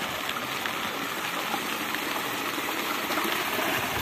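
A rain-swollen stream rushes past in the Sertão backcountry after a downpour, eroding earth around a post; a steady, loud, broadband roar of gushing water fills the whole stretch with no talking.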